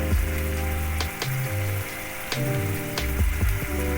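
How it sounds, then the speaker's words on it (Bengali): Fried ridge gourd slices go into a sizzling pan, a soft crackling fry with a few brief clicks of the spoon, partly masked by steady background music. "এতে আমি এবারে ঝিঙে ভাজা দিলাম।"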